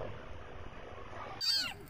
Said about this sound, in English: we have got the world's smallest kittens here, I think